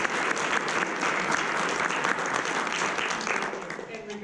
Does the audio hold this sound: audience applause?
yes